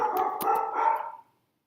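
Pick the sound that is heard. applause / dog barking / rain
dog barking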